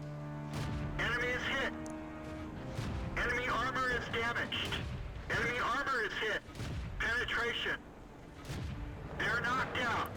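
The M7 medium tank's gun in the World of Tanks game, booming shots and impacts among battle effects, largely under someone talking over the gameplay.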